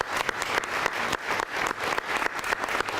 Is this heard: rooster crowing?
no